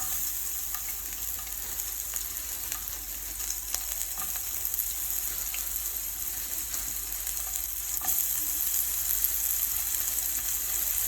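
Diced onions fry in a pan with a steady, close sizzle and faint crackling that continues evenly throughout, with no talk.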